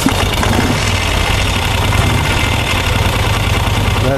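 A Vincent Rapide motorcycle engine, just started using the compression release, idles loudly and close by with a steady, throbbing low rumble and a mechanical clatter throughout.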